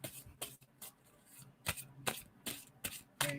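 Tarot cards are shuffled by hand in a run of quick, crisp riffling bursts, about eight separate flurries spaced irregularly, close and fairly quiet, with no talking.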